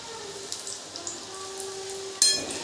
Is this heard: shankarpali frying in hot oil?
yes